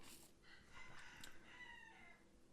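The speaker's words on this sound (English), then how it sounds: "Can y'all hear the rooster?" A rooster crows faintly in the distance, one drawn-out cock-a-doodle-doo over steady background hiss with no talking.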